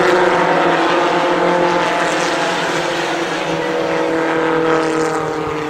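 Race cars roar around the oval at Columbus Motor Speedway in a dense, continuous engine drone, loud and steady as the pack circles, with no talk over it.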